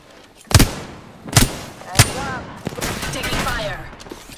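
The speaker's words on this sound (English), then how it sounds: "Taking fire. They're shooting at me." Three sharp, loud gunshots at roughly even intervals in a video game, followed by lingering combat noise and a voice speaking over it.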